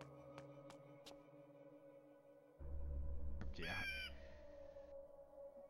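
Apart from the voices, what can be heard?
digitized owl hooting in video game Legacy of Kain: Blood Omen 2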